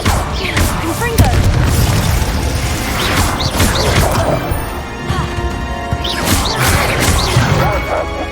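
Spell blasts from the Confringo fire spell in the Hogwarts Legacy video game, loud booming impacts and crashes repeating across a dense, busy combat soundscape with game music and effects layered throughout.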